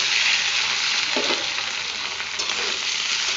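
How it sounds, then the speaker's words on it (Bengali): Potatoes frying in a pan with oil after bay leaf and chilli tempering, a loud, continuous close sizzle with a brief stirring scrape partway through. "আলুটা ভাজা ভাজা করবো"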